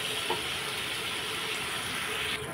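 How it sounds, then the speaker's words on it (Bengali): Prawns frying in a pan of hot oil give a steady, close, continuous hiss and sizzle that holds evenly throughout before easing slightly at the very end. "তো চলুন চিংড়ি মাছটা ভাজা হোক"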